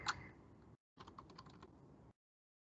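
Keys tapped on a computer keyboard while searching for trees in InfraWorks software: a short burst of close, quiet clicks, a brief pause, then another run of rapid keystrokes before silence.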